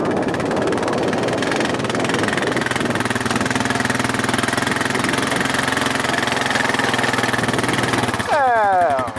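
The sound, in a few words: Deutz-Allis 1918 tractor engine running, shifting gears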